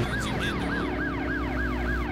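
Police car siren in the driving video game Driver San Francisco, a loud rapid wail repeating in quick regular cycles, close and continuous over road and engine noise.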